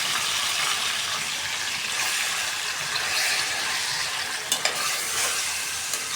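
Marinated meat dropped into plenty of hot oil in a pan, producing a loud, continuous broadband sizzle close by, with a few faint clinks of stirring near the end and no talking.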